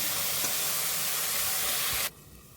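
Fresh young spinach, salted and watery, sizzles loudly in an open pan as a steady, bright hiss, then drops abruptly to a quiet, muffled simmer.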